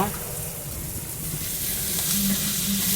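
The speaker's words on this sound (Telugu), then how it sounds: "శనగపప్పు అన్నీ ఎగ్గిపోయినాయి ఫ్రెండ్స్" Chana dal frying in a pan gives a loud, continuous sizzle with crackling pops, growing slightly stronger over a few seconds, with no one talking.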